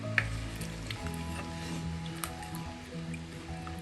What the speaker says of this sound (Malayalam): വെള്ളം ചേർത്ത് നമുക്ക് നല്ലതുപോലെ ഇളക്കി